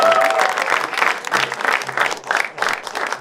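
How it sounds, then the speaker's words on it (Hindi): Loud, enthusiastic crowd applause at a Hindi shayari poetry gathering as the next poet is welcomed, thick clapping that swells and dips in waves throughout. "एक बार जोरदार तालियों के बीच अंकित मिश्रा भाई के लिए हो गए"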